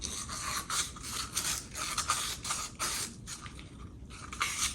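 80-grit abrasive is rubbed by hand over the aluminium front brake fork of a worn 1976 Honda CB500T, making quick, repeated scratchy strokes in a steady rhythm, close up and with no voices.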